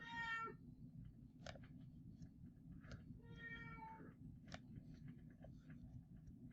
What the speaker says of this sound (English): that sound in the background is my cat.